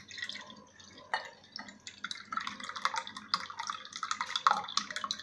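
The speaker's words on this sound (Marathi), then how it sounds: "हे मी पाणी काढून घेते आहे." Cooking water drained off boiled dal for katachi amti, pouring and dripping in irregular trickles and splashes, fairly quiet and close, growing busier toward the end.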